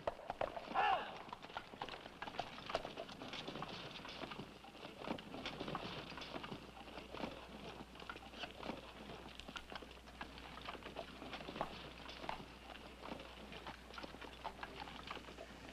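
Horses' hooves clopping on the ground as a cavalry platoon dismounts, a steady patter of many hoofbeats at moderate distance, with faint talk and ambient noise underneath.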